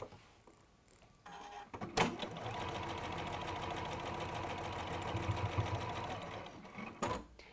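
Close, steady whirring of a sewing machine running for several seconds as it sews a velvet patch, with a click at the start and another at the stop.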